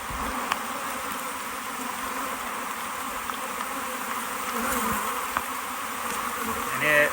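Honey bees buzz steadily and close while frames are shifted between nucs during a September colony combine, a dense continuous hum with occasional faint knocks and no voices.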